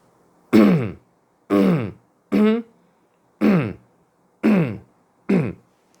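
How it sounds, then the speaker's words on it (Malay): A man clears his throat six times, producing short, forceful, guttural rasps from deep in the belly. Each one is loud and close and stands alone in a quiet room, with brief pauses between them. "kita berdehem."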